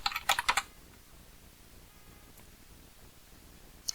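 Quick burst of close, crisp keystrokes on a computer keyboard while typing an email address, about half a second of rapid taps followed by near silence and one last light key press.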